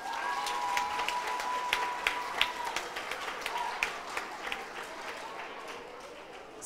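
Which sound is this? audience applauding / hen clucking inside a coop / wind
audience applauding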